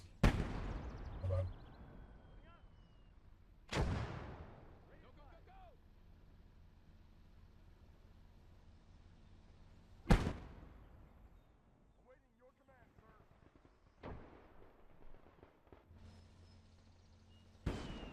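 A mortar battery fires in the World War II game Call to Arms: Gates of Hell, with sharp booming blasts at irregular intervals, each trailing off into a rumble, among scattered distant battle noise and a voice talking.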